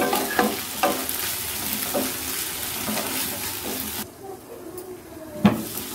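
Steady sizzling of ginger garlic paste frying in a hot pan, with occasional scrapes and taps of a spoon stirring it.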